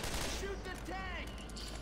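Rapid gunfire from several players shooting at the Tank in Left 4 Dead 2, a dense continuous burst of shots under excited voices.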